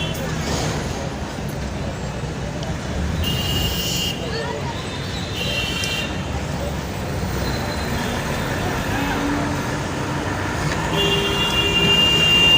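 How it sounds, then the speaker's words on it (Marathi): Evening traffic jam on a road near Chembur, heard from inside a moving vehicle as a steady engine and road rumble with passing traffic, occasional horns, and people talking faintly throughout. "ट्रॅफिक पण जाम आहे ना संध्याकाळचा टाईम आहे ना"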